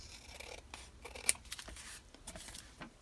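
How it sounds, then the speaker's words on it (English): Scissors snip through paper around a junk mail envelope, a series of quiet close crisp cuts and slides with soft rustling between them. "I'll turn it over and trim around that one."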